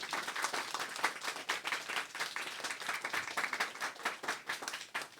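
Congregation applause at a church worship service, rapid dense clapping from many hands, fairly soft and even, heard alone without talk.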